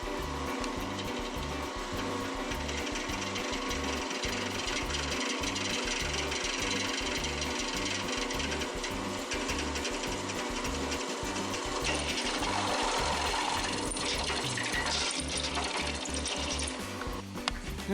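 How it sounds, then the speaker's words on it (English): A power drill bores a rough starter hole through a thin metal tube, running in a steady, fast, buzzing rhythm close up for the whole stretch without pause. "I'm just going to drill the hole to a rough size to get it started."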